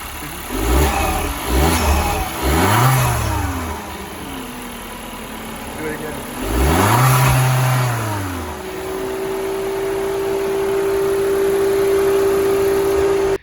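A stock 2017 Volkswagen Jetta with the 1.4T engine revs in several quick blips, then settles into a steady idle with a faint whine, heard close up.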